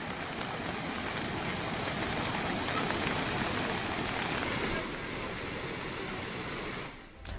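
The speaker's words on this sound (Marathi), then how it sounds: "इथं जोरदार पाऊस आहे। पावसाचा जोर अजून कायम आहे।" Heavy rain pours down steadily in Palghar, a dense, continuous wash of water noise with no voices, easing slightly toward the end.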